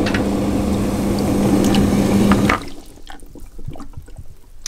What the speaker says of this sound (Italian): se ora andiamo a fare una prova e ad alzare la pompa, una volta che tiriamo giù il galleggiante